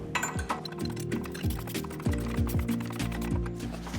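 A ratchet wrench tightens a STATS connector, giving rapid, close metallic clicks in quick repeated strokes with a clinking, geared rattle.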